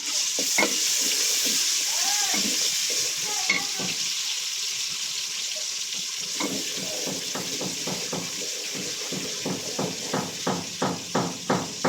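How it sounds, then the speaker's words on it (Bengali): Onion dropped into hot oil to test the heat, a steady close sizzle with a quick train of rhythmic spatula taps building toward the end, and a faint voice briefly in the background. "আমি পেঁয়াজ দিয়ে দেখতেছি তেল গরম হচ্ছে কিনা"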